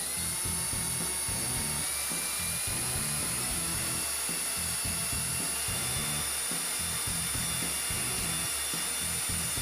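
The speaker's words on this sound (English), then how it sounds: "All I'm going to have to do is drill one other hole" A power drill bores a mounting hole while a Hurst Roll Control line lock kit is installed on a car, a continuous high whine held steadily for about ten seconds.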